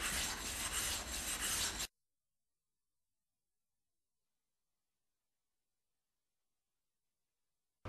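A sharpening stone is flattened by rubbing it against another stone, a close, loud gritty rasping scrape that lasts under two seconds and then cuts to silence.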